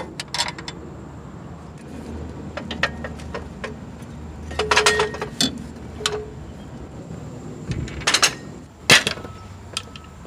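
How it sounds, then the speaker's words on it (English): Worn tie rod end on a Jeep ZJ steering linkage, sharp intermittent metallic clunks and knocks scattered irregularly over a quiet background, some in close clusters. "this is what a played out tie rod end sounds like"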